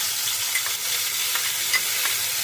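Onion paste frying in a little oil with ginger, garlic and green chilli for a chicken curry, a steady close hiss with soft stirring scrapes, no voices.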